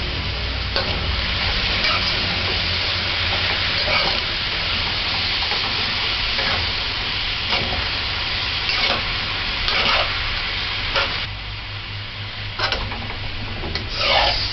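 Cabbage and fish stir-fry being stirred in a pan over high heat, splashed with white vinegar: steady loud sizzling and hiss throughout, with repeated scraping stirs of the spatula cutting through.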